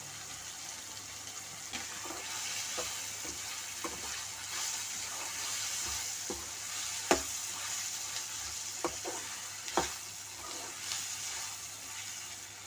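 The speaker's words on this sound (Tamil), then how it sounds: "தக்காளி நல்லா வதங்கிருச்சு" A steady sizzle of tomatoes frying in a pan for a Tamil sun berry tamarind curry, with occasional soft stirring clicks and scrapes rising above the hiss.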